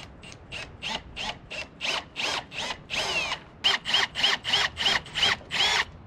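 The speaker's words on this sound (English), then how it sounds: "That's all we have to drill out." A power drill whirs in repeated short bursts, about a dozen pulses with brief pauses, close up and fairly loud, drilling out a hole while fitting drawers into a truck.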